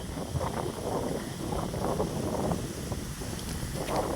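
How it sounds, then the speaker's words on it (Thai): Strong wind blows outdoors beside a fish pond in a garden, a continuous loud rushing roar with buffeting gusts against the microphone. "ลมแรงเลย"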